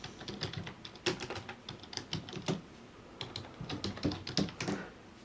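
Someone types the python --version command on a computer keyboard, producing quick bursts of clicky keystrokes with short pauses between them, close and fairly crisp.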